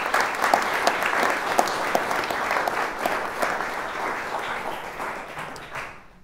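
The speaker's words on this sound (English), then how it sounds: "would you give a big round of applause to all three of them?" Wedding guests at a ceremony on the Aran Islands give a sustained round of applause for three singers, many hands clapping steadily before tapering off into silence.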